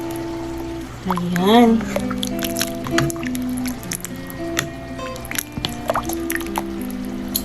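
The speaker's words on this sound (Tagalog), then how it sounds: "And isabay na rin natin yung ating tomato sauce." Tomato sauce goes into a pot of simmering homemade pork and beans with soft wet squishes and drips, under a person's talking.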